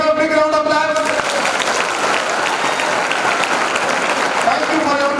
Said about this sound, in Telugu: So give a big round of applause.